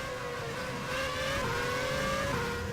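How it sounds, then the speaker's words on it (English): Race car engines in a racing video game at Interlagos for the Brazilian GP roar continuously at high pitch, with revs rising and shifting as the cars drive close together. "You just hear those engines roar."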